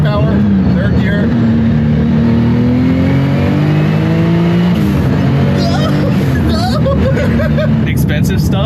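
An 800-horsepower Porsche-like car pulls hard in third gear, its engine note climbing steadily and loudly before easing off, with crowd chatter and voices mixed underneath.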